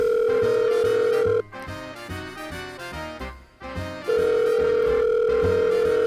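Telephone tone from a video game while calling a pizza place, a steady electronic tone that breaks off partway through and then returns, sounding alone.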